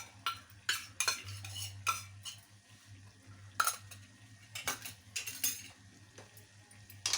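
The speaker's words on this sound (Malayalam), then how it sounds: "പച്ചമുളക് മാറുന്നത് വരെ നമുക്കൊന്ന് വഴറ്റിയെടുക്കാം" Sharp scraping and clinking strokes of a spoon stirring onions and green chillies sautéing in a pan, spaced irregularly, with a low hum beneath and faint sizzle between strokes.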